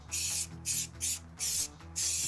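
Aerosol paint sprayed in light passes onto warm car brake calipers: five short, even hissing bursts separated by brief pauses, close and clear with no talking.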